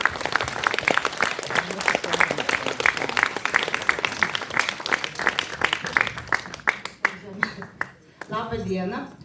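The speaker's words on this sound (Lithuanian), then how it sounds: "Plojimai." An audience claps steadily at an anniversary celebration for a folk music ensemble, a dense, even wash of applause that thins toward the end as a voice begins speaking.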